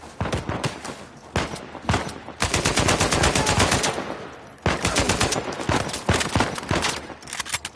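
Loud, dense sniper and automatic gunfire from Uncharted 4 combat, with rapid overlapping bursts that run almost continuously, broken by a few short lulls.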